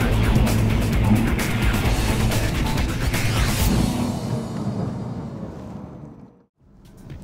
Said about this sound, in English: Okay, now what I'm going to do is to fully test the car.